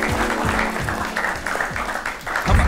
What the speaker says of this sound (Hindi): उसके लिए तालियां तो बजनी चाहिए